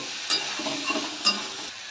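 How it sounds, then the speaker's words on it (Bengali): Onions fry with ginger in a pan, a soft continuous sizzle broken by a few scraping stirs and light clinks of a spatula. "পেঁয়াজটা এমনভাবে ভাজবেন যাতে পেঁয়াজটা একটু লাল লাল হয়, কিন্তু যাতে পুড়ে না যায়"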